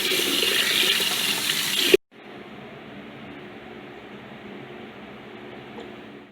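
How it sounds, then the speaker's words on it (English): Fresh water pours from a tap for a pet tarantula, a loud steady rush that cuts off abruptly, followed by a quieter continuous hiss of water or room noise. "We'll get him some fresh water."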